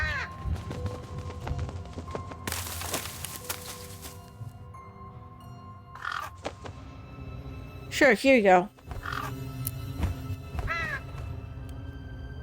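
Crows caw in a short burst of harsh calls in the True Fear: Forsaken Souls video game, set over low ambient game sound, hoof-like steps and a brief spoken line.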